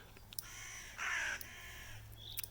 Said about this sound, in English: No cattle, just crows.